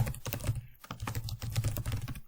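Rapid keystrokes clatter on a computer keyboard in short irregular bursts, close and fairly quiet, with no voices.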